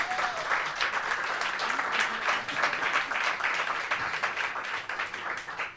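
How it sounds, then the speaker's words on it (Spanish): Applause from a lecture audience at a talk on scepticism, a sustained wash of many hands clapping in a hall, steady and fairly loud without talk, thinning slightly near the end. "pido un aplauso para él y para todos"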